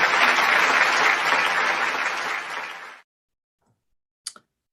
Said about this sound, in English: With big round of applause, let us welcome Dr. Vishwashanti Karbhari.